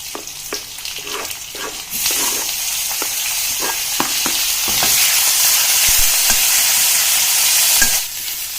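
Onions and green chillies fry in a pan for a puri curry, a steady loud sizzle with intermittent stirring clicks and scrapes, the hiss swelling after the onions go in.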